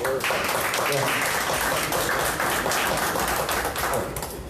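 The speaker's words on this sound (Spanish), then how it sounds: "Antes un aplauso también al moderador" Loud, dense clapping fills the room for a moderator at a book presentation during an international book fair, a close, continuous patter of many hands lasting a few seconds with some voices mixed in.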